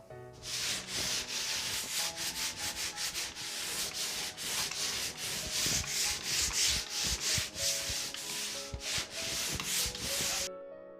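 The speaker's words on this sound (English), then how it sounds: "This pole sander would probably be ideal for this particular job." Steady rhythmic scraping of a pole sander stroking back and forth across a wall, close and continuous for several seconds before stopping abruptly.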